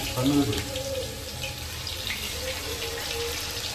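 A tap runs steadily with a continuous gentle gush of water, close by, with faint background sounds mixed in.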